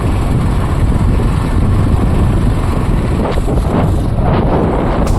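Strong cold wind buffets the microphone outdoors in a forest area in a continuous low rumble, loud and close, with a faint engine-like drone underneath.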